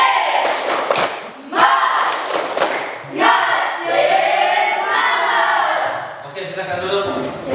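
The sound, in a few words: rhythmic group clapping (tepuk semangat)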